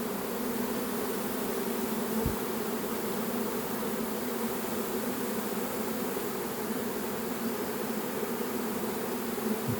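A swarm of honey bees moving into a new nest, a dense, steady buzzing hum that fills the whole stretch, close and continuous with no voices.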